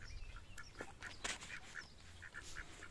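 Ducks quacking in a farmyard pen, with several short calls spread across a few seconds, fairly faint and slightly distant, over a low background rumble.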